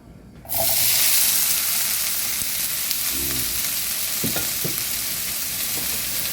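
Green pepper dropped into olive oil in a heated pan for a breakfast quiche, a sudden loud burst of sizzling that settles into a steady close hiss and crackle with a few faint clinks, no talking.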